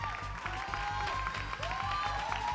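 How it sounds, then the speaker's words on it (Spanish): Audience applause for a priest defending creationism in a televised creationism-versus-evolution debate, steady hand clapping throughout with a low rhythmic music bed and tonal sounds beneath. "un aplauso al padre Mario Ángel Flores a favor del creacionismo."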